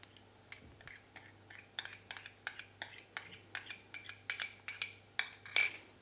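Chopped chicken thigh fillet mixed with egg, sour cream, spices and flour, stirred with a metal utensil in a bowl: a series of close, light clinks and scrapes that grow more frequent and louder toward the end, with no speech.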